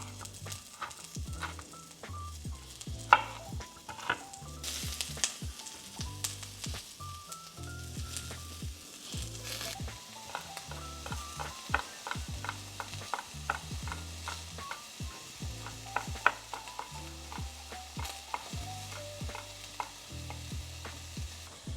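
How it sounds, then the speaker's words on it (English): Peppers sizzling in a pan while shakshuka is cooked, a soft continuous frying hiss broken by frequent clicks and scrapes of stirring, fairly quiet and close, with no talking. "I'm gonna go ahead and add in my peppers"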